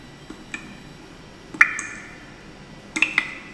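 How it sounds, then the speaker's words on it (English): Water droplets fall one at a time in a cave, a handful of sharp, ringing drips spaced irregularly, each with a brief resonant tail, over a faint, hollow background. "That's some cave water drops."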